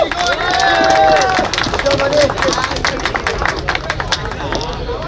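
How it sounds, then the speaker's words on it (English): A crowd at a school inter-batch football tournament prize-giving applauds an award winner with dense, loud clapping and some cheering, while voices chatter underneath. "A huge round of applause for Mr. Anirudh"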